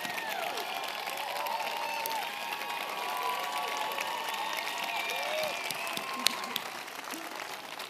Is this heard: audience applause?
yes